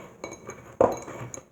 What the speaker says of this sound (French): on pile la chair de quenep avec le sucre